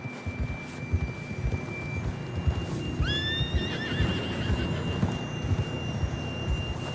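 A horse in Red Dead Redemption II gives a loud, bright whinny with a falling tail midway through, over a steady run of clip-clopping hooves and a low in-game ambience.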